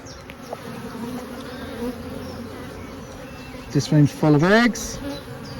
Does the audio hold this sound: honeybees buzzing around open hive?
yes